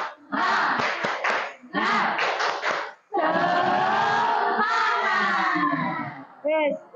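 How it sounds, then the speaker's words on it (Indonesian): A class of schoolchildren claps out a rhythmic spirit cheer together, with loud group clapping and chanted voices in several bursts, followed by a short rising vocal tone at the end. "Lagi, ayo tepuk semangat"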